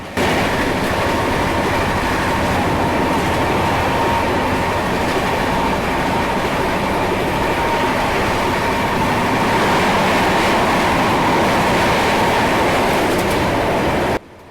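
Bihar Sampark Kranti Express running at speed through Hathras Junction, a steady loud roar of wheels and carriages with continuous rumble and rattle, close and unbroken.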